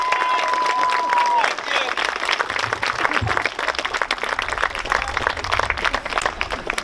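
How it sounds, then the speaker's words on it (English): Audience applause with some cheering at a celebration of life gathering, dense clapping filling the room for several seconds after a short tone cuts off, fairly loud and close. "Big round of applause for my loveliest."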